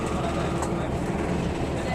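A steady, loud rumble of a train running, heard from inside the cab on the way to Shenton, a continuous mechanical roar with faint clatter and background voices.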